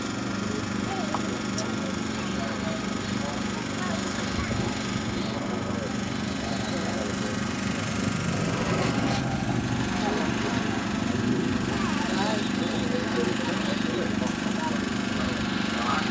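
A Ducati 1198S motorcycle makes a top speed run at a Straightliners event on the Elvington runway, heard as a loud, sustained engine roar that holds steady throughout, with a voice talking over it.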